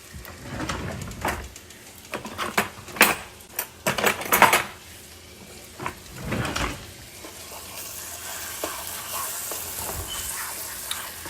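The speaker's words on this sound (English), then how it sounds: "I'm putting some minced garlic in" Minced garlic hits melted butter in a pot while making creamy cheese grits, giving a steady sizzle broken by several loud clanks and scrapes of a utensil against the pan, with no talking.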